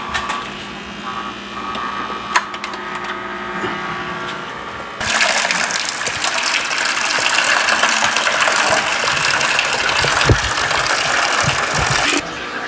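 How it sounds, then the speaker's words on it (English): Water is bailed from an aquarium tank into buckets, pouring and gushing steadily, starting quieter and growing louder and fuller midway, with occasional knocks and clunks. "Let's get some water out so we can grab this filter."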